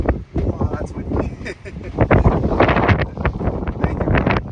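Gusty wind buffets the microphone with loud, rumbling low-pitched blasts that rise and fall continuously.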